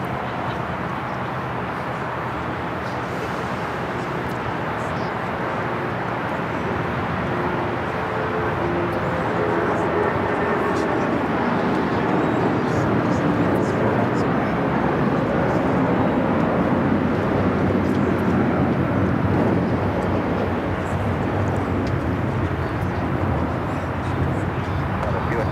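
Qantas Airbus A380 airliner moving around LAX airport, a broad, steady engine roar that swells slightly toward the middle and holds at a distance, with people talking faintly nearby.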